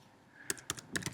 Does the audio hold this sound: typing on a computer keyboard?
yes